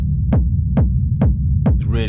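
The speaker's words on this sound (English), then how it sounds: "if I stick the kick back in, you can hear that. It goes kick." A techno kick drum drenched in fully wet reverb thumps four times at an even pace, each deep hit swelling and pumping into a rumbling tail, with a brief brighter burst at the end.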